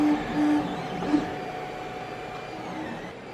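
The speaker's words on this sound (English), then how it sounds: "How do you like the magic of 3D printing?" A 3D printer runs in a workshop, giving a steady mechanical hum with faint whining motor tones and small shifts in pitch, loud and close, with no talking.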